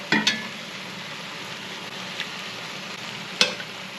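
Spicy spaghetti sauce with pasta cooking down in a pan, giving a steady close sizzle and bubbling, broken by a few sharp stirring scrapes.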